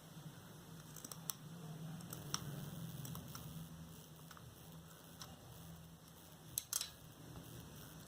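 Small scissors snip cloth into oval petal shapes for a reusable garland, giving a few quiet, sparse clicks over a low background hum.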